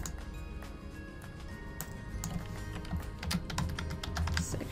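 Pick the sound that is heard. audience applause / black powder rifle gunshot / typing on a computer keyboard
typing on a computer keyboard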